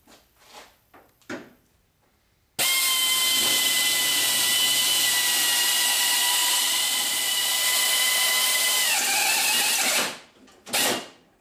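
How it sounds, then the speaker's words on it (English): A power drill bores out rivets holding the window regulator inside a 1979 Chevrolet El Camino door. After a few soft knocks it whines steadily and loudly for about seven seconds, its pitch dropping slightly near the end, then stops, followed by brief clatter. "I'm just going to use a drill"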